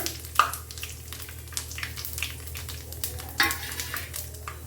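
Bay leaf and cumin seeds sizzling in hot oil for a spiced white pea curry, a close crackling fry broken by sharp spikes and scraping clinks as the spices are stirred.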